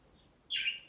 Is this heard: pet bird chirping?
yes